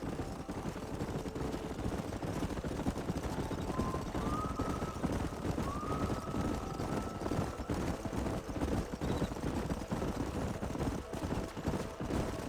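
Horses gallop through a canyon in Red Dead Redemption, a dense continuous drumming of hooves heard close and loud throughout, with a faint tonal cue rising in the background.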